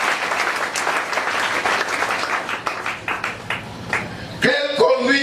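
Congregation applauding in a church service, a dense steady round of clapping that fills the space, ending abruptly as singing voices take over near the end.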